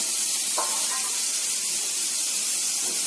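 Boiled bitter gourd pieces stirred in a frying pan, a steady soft sizzling hiss throughout with a couple of faint scraping touches, close and even in level.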